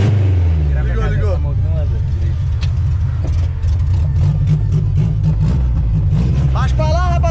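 A Chevrolet Chevette that had stalled in stopped traffic idles steadily after being restarted, a low, rumbling, up-close engine drone running throughout beneath people talking.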